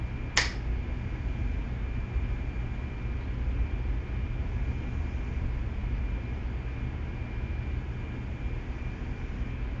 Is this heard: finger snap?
yes